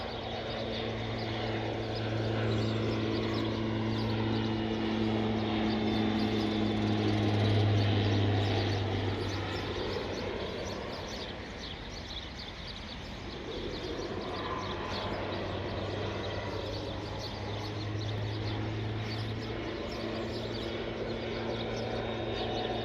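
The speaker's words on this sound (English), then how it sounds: "We get to watch the crop dusting biplane." Crop dusting biplane flying low over California farmland at sunrise, a steady broad engine drone that swells and then fades as it passes, heard alone without talking.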